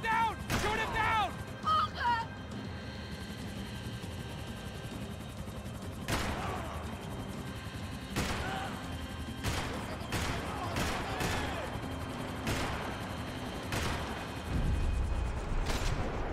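Scattered gunfire in Max Payne 3, a cluster of quick shots early on followed by irregular single reports, fairly faint under music and game noise.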